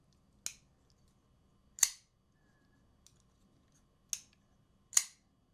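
Four sharp, crisp clacks from a Fablades Spark Spin M390 folding knife snapping open and shut, spaced irregularly and heard up close in quiet surroundings.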